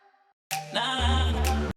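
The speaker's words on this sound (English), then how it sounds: "this thing literally just plays the reverb tag, like na da" A vocal chop heard only as its reverb tail with the dry signal cut off, a short washy sustained swell lasting about a second before stopping abruptly, preceded by a faint quieter tone.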